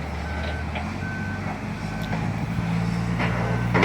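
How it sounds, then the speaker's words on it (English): Semi trucks reverse at a mulch yard, their backup alarms beeping in slow regular pulses over a low rumbling diesel engine idle, moderately distant with no speech. "They got semi after semi coming in."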